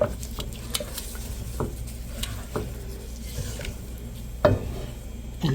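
Milk for chhana sandesh is stirred continuously in a pan over low-medium heat, soft scraping taps and light patter at irregular intervals, close but faint, with a sharper knock near the end.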